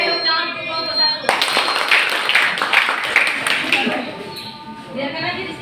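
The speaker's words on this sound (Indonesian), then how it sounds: "tepuk tangan untuk kelompok 1" Classroom applause for a student group after their presentation, a burst of many hands clapping that starts abruptly and carries on for a few seconds, with voices chattering underneath.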